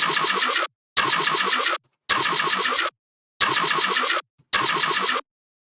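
Five loud, buzzy bass synth notes, each held under a second and separated by short silences, sounding dense and gritty.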